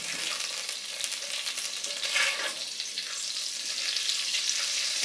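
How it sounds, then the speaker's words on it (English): Oil sizzles steadily in a pan as chow mein is stir-fried, a continuous close, bright hiss with a short louder burst midway and no talking. "I'm adding a little bit more of the oil"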